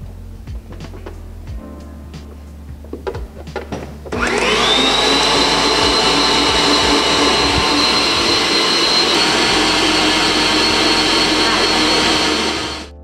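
Electric mixer beating butter and sugar for chocolate cake batter, switching on abruptly to a loud, steady high whine that runs for several seconds before cutting off, with brief talk and clatter before it starts.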